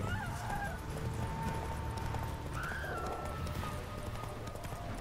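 Roach the horse's hooves clip-clop faintly in The Witcher 3 over a low ambient hum, with soft tonal whistles drifting above the steady rhythm.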